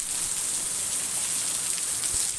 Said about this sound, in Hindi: और अब ज़ोरदार बारिश शुरू हो चुकी है।